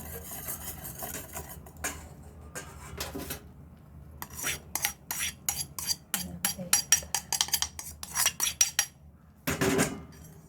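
A spoon scrapes and clanks against a metal pot as a cornstarch-thickened cake filling for a homemade birthday cake is stirred quickly, giving bursts of rapid rattling separated by short pauses.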